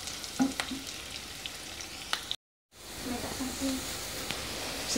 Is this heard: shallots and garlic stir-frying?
yes